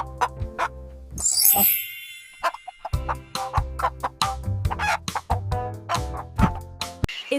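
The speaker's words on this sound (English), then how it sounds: "Chicken." Chickens cluck in short, sharp bursts around a brief high, rasping call near the start, a lively close barnyard racket with no one speaking.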